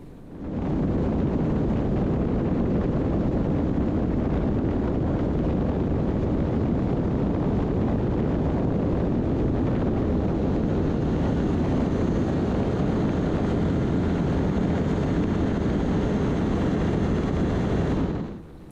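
Inside a small airplane cockpit during a simulated engine failure, a loud broad rushing roar of airflow and engine noise holds steady for the whole stretch, fading in at the start and out at the end.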